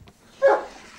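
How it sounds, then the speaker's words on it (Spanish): A single short dog bark, fairly close and moderately loud, in an otherwise quiet setting. "Oye, oye, basta de ladridos."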